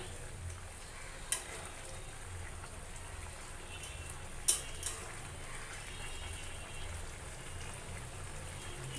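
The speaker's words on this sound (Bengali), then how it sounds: "মাঝে মধ্যে এটা ঢাকনা তুলে আমি নেড়ে চেড়ে দিচ্ছি তরকারিটা" Vegetable curry with potatoes sizzles steadily in a covered pan on the stove. The constant frying hiss is broken by a couple of brief clinks as the lid is lifted and the curry is stirred.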